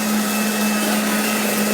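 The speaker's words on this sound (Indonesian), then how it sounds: "Blender sampai dengan halus." Blender whirs steadily at full speed, blending tea juice until smooth, with a strong constant motor hum and no talk over it, close and loud.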